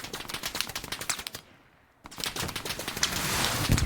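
Machine gun fire in the video game Hell Let Loose, rapid bursts of shots rattling close and loud, a brief lull near the middle, then a denser, heavier volley to the end.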